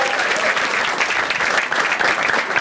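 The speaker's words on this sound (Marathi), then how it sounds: "एकदा टाळ्या वाजवा तिच्यासाठी सगळ्यांनी." A live audience at a Marathi stand-up comedy show breaks into dense, even applause for a woman in the crowd, close and loud from start to finish with no voices above it.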